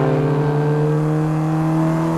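An MGB sports car engine drones loudly and steadily at high revs while powering through a corner on a race track, heard from inside the car without talk.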